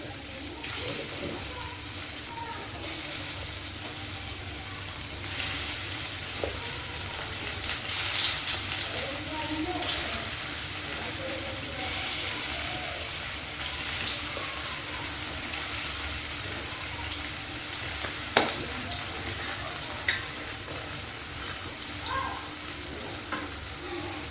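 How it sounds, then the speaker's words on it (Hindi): Spinach patode fry in hot oil with a continuous bubbling sizzle, close and even, dotted with a few light pops and clinks toward the end. "तो अब हमारा तेल देखिए गर्म है, तो इसको ऐसे डाल देते हैं।"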